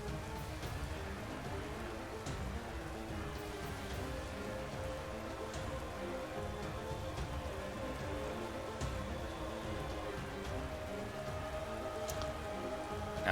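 Rain weather effect in a Pokémon battle game: steady, dense pattering rainfall hisses evenly throughout at a constant moderate level, with no talk over it.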